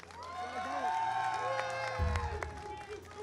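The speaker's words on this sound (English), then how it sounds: "let's just give another round of applause for all the finalists" Applause and cheering from an audience at a Monster Hunter Wilds championship event for the finalists. It is a dense crowd wash of clapping with brief musical tones and a low thud partway through.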